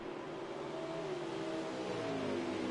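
Engine of the number 11 Chevrolet stock car in a Mid-Ohio Xfinity race in a racing video game, a faint steady drone with a rising whine as the car draws closer, no talk.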